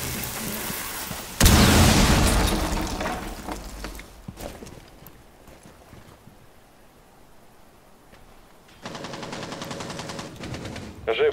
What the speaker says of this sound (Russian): Разойдись, взрываю.